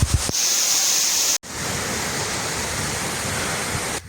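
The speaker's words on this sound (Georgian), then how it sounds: "აი ესეც მეორე ჩანჩქერი." A mountain waterfall in February near a monastery on a winter hike, a loud, steady, broadband roar that fills the clip without a break after a short opening cut, with no voices.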